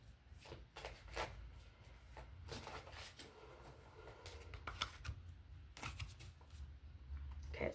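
Tarot cards being shuffled by hand, a run of soft close riffles and flutters with small taps and pauses, quiet and intimate.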